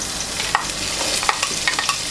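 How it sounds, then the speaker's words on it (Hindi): Vegetables, onion and capsicum, frying in a tablespoon of oil over medium-high flame for a Chinese-style chicken dish, a loud close hiss with quick stirring scrapes, no voices. "जी, तो अब मैं वेजिटेबल्स को फ्राई करूँगी।"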